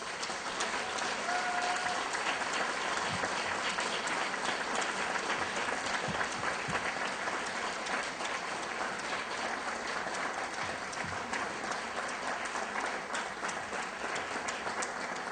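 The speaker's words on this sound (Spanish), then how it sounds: "Un gran aplauso" Sustained applause from a conference audience welcoming a guest speaker at an event on displaced people, steady dense clapping that continues evenly for about fifteen seconds, heard from somewhat of a distance.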